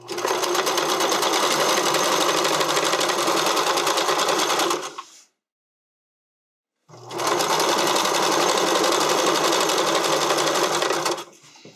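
A sewing machine stitches stretch fabric for a figure skating skirt, with the fabric stretched as it feeds through. It runs loud and close in two long, even bursts separated by a pause of near silence.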